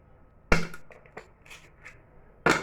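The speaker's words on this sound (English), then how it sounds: "I'm gonna add the ice" Ice cubes dropped into a blender holding cold water, a sharp clattering crash followed by a few scattered knocks and a second loud rattle near the end, close and loud with no talking.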